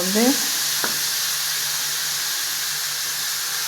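Peanuts sauté in a pan for a tamarind curry, giving a steady, even sizzle that holds at the same level from start to finish, with a brief voice-like tone at the very beginning.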